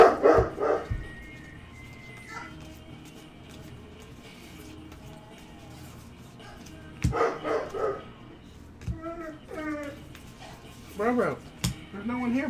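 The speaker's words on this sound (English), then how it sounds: "what are you barking at?" A dog barks in a few separate bursts at a basketball gathering, loud and fairly close, with quiet stretches between the barks and people talking nearby.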